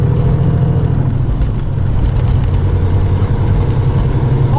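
A 2001 Peterbilt 379 truck with a Caterpillar engine and exhaust stacks, running with no trailer on a country road: a loud, steady low diesel rumble from inside the cab.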